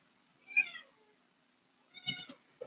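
A kitten meows twice indoors, a short high cry followed about a second and a half later by another, both close and fairly soft against a quiet background.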